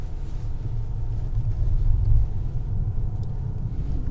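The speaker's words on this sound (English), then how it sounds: "we are now driving again, as I mentioned, with a puncture" A 2022 Mercedes S680 Guard armored V12 sedan drives along with a punctured tire, giving a steady low road rumble and engine drone inside the cabin, with no talk.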